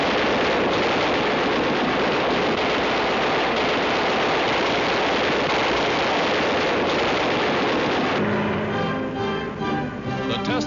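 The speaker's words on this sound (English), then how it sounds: "Guns are tested on the ground." Machine guns mounted in an aircraft's wings are test-fired on the ground in a wartime film, a dense, continuous loud rattle of rapid bursts that changes character near the end.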